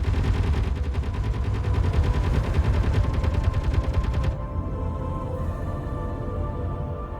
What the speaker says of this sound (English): They're still trying to shoot the drop pod though.